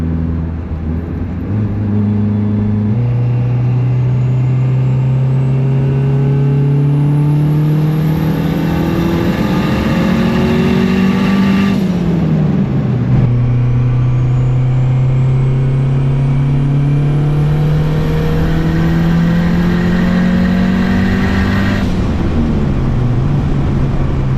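A built single-cam V8 car running 30 psi of boost makes two full-throttle pulls. The loud engine roar climbs steadily in pitch, drops briefly at a gear change, then rises again through a fourth-gear run.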